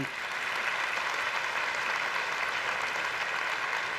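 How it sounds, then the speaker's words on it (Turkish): Steady audience applause fills a hall at the final ceremony of a Quran recitation competition, dense and continuous clapping with no voices over it. "Alkışlarınızla"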